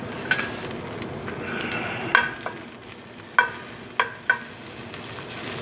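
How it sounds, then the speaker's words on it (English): Onions caramelizing in olive oil over low heat in a pan, a soft continuous sizzle broken by several sharp utensil clicks and scrapes as they are stirred. "These onions normally take about 10 to 15 minutes to caramelize"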